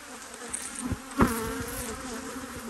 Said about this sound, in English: some of these bees have been here, this hive has been here for a while